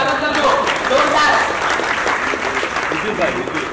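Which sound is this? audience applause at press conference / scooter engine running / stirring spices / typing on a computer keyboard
audience applause at press conference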